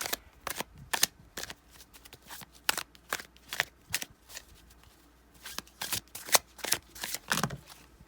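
Tarot cards being shuffled by hand in a series of crisp, close riffling bursts and slaps, irregular in rhythm, with short quiet gaps between them and no talking.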